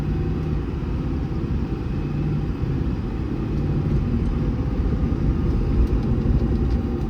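A 2024 Ford F550 4x4 mechanics truck with lube skid accelerates steadily, its engine giving a continuous loud, heavy low rumble that builds slightly as it climbs through the gears, with no talk over it.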